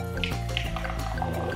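Soda poured from a can into a glass, a loud, bubbly gurgling stream with small fizzing splashes and drips running steadily throughout, close up and with no voices.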